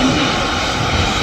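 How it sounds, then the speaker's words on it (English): Airbus A320 airliner at Manchester Airport, its engines giving a loud, steady, broadband roar that holds constant and close throughout, with no voices over it. "that's an Airbus A320"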